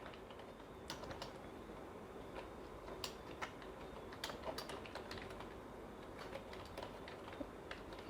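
Steady typing on a computer keyboard while a logo is designed in Photoshop, with irregular bursts of key clicks running continuously at close range, no voices present.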